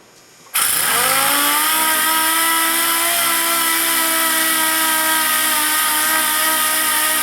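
A DA sander starts abruptly and runs at a loud, steady whine while sanding filler on the rusty rocker panel bodywork of a Chevrolet Silverado crew cab dually, close and continuous with no talk.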